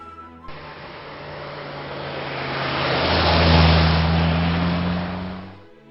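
A car drives past in a LEGO stop-motion film, a motor hum swelling steadily to a loud peak before easing off, heard alone with no voices.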